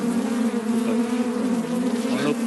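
Bees drone steadily at an open beehive during a honey harvest, a loud, close, continuous buzz with layered wingbeat tones and no voices.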